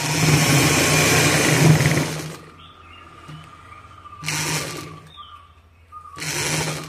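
Sewing machine stitching a fabric grow bag for planting tapioca, a loud rapid whirring burst followed by quieter gaps and two shorter stitching runs.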